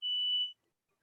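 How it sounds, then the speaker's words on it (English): A fire alarm sounds indoors during a class: one loud, steady high-pitched electronic beep lasting about half a second, then silence. "I got a fire alarm going off"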